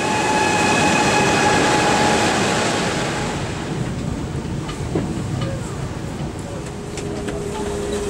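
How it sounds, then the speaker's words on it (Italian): A train pulls into a station, its rumbling rolling noise loud at first and then easing as it slows, with a few metallic clicks and squeaks near the end. "Ed ecco il nostro treno che arriva naturalmente secondo tradizione italiana in ritardo."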